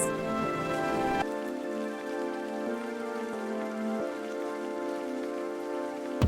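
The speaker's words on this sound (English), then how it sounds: "It's starting to rain!" Rain falling steadily on the roof of a mobile home during a drive, a dense continuous patter with a brief louder onset, alongside steady tonal background music.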